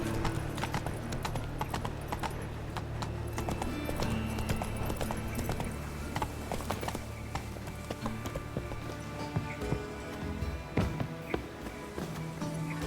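Hooves of Roach, Geralt's horse in The Witcher video game, beat in a steady, rapid galloping clip-clop rhythm, close and continuous throughout.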